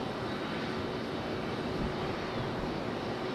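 Delta and JetBlue airliners depart Raleigh-Durham International, giving a steady broadband jet roar heard from a distance on the ground. The level stays even throughout and no one talks.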